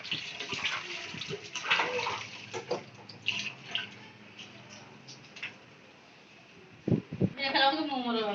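Water poured and splashing as a child is bathed by the mother, intermittent splashes and a running pour near the end, heard close under frequent voices and talk.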